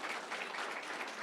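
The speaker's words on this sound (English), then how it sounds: "Give the families a round of applause." An audience at a police promotion ceremony claps in a dense, steady burst of applause. The sound is brief, fairly distant and faint.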